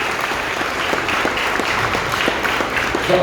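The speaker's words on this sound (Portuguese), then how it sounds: "vou devolver as palmas para o Felipe" Loud, dense audience applause rolls on steadily throughout, a thick wash of many hands clapping at once with no break.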